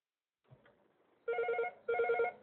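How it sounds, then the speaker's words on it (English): A mobile phone rings in two clear bursts of rapid buzzing electronic trill, loud and close, after a brief soft rustle. "my phone is ringing."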